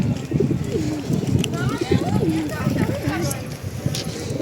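Pigeons coo repeatedly, their soft rolling calls heard close and clear over a dense, constant background of more birds, with a person talking at the same time.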